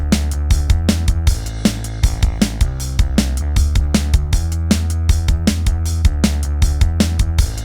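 Live-style programmed drums with punchy, regular kicks and snares drive under a super fuzzy, distorted live bass guitar line, loud and dense with no voices.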